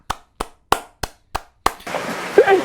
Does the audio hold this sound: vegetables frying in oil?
no